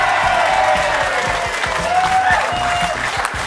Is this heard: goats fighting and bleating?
no